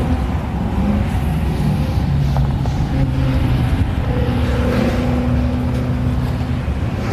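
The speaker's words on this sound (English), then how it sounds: "Morgans have just finished up. Hear the roar. Listen to the noise of this." Morgan racing cars roar around a circuit during a classic racing qualifying session, a continuous loud engine drone with shifting pitches as cars pass, and no voices over it.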